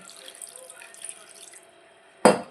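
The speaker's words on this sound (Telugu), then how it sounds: "కొద్దిగా వాటర్ పోసుకోవాలండి" Water poured into the coating batter for an egg roast gives a single short, fairly loud splash near the end, after a stretch of faint kitchen quiet.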